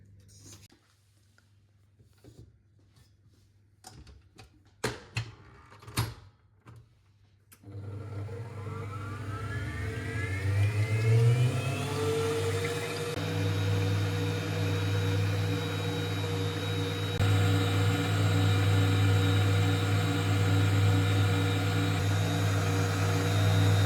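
A few clicks and clatters, then an electric mixer starts up whipping cream, its motor whine climbing in pitch before settling into a steady, loud whir.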